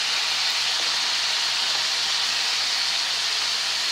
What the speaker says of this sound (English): Make sure you boil the spaghetti.